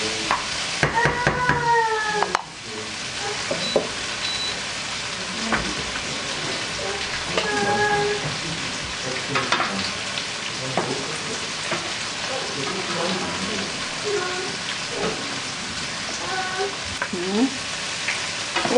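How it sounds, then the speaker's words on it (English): Garlic frying in hot oil until crispy and golden for a Filipino dinner, a steady close sizzle and crackle running throughout with occasional stirring clinks and a faint voice now and then. "When the garlic is already crispy and golden brown, you can get the garlic out from the oil."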